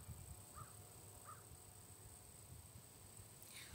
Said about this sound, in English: You may hear the crows.